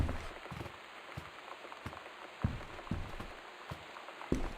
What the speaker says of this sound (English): No, I just hear the rain still.